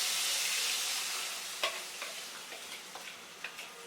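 Gravy for Chinese chicken egg foo young sizzling and frying in a wok after onions and chicken, a steady hiss with a few scattered clicks of stirring, no voices.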